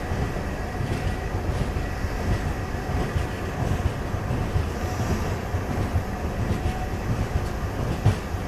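Passenger train running on the Sachkhand Express (Hazur Sahib Nanded superfast), heard from inside a first class coach: a steady, continuous rumble of wheels and carriage noise with faint rhythmic clatter throughout, no talking.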